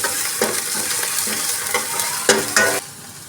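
A garlic, ginger and green chili paste fries with onions in a pan, giving a steady close sizzle broken by several scraping stirs of a spoon, with no talk.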